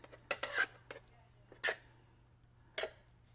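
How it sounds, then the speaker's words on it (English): A spatula scrapes pumpkin puree from the sides of a can in a few short, separate, close scratchy strokes with quiet pauses between them. "Scrape down the sides to make sure I get all that out of there"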